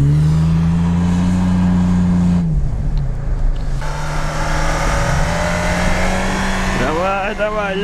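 A 4x4 off-road car engine strains and revs loudly nearby on low-traction ground, holding a steady high drone, briefly dropping, then pulling again, with voices talking over it.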